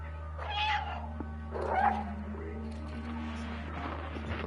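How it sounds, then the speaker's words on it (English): A cat in the video game Stray meows twice, soft and fairly close, over a low steady hum, with a faint third call trailing off near the end. "Did you hear the kitty meow?"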